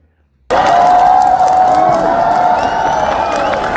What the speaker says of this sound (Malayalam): ആ സ്റ്റേഡിയത്തിൽ ഭയങ്കര ആരവമുണ്ടായി, ഭയങ്കര കയ്യടി ഉണ്ടായി